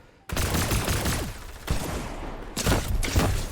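Gunfire in Fortnite Zero Build solo play, several loud bursts of rapid shots in quick succession with short gaps between them.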